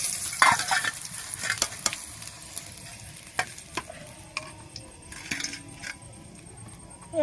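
Egg chops fry steadily in hot oil in a pan, a continuous close sizzle broken by scattered metallic clinks and taps of a utensil stirring and turning them, with no talking.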